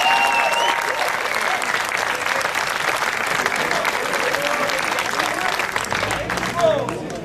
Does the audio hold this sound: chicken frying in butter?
no